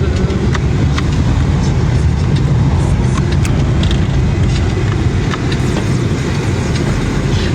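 Steady low road rumble and engine drone fill a car interior while driving, loud and continuous, with occasional faint clicks and rattles and no talking.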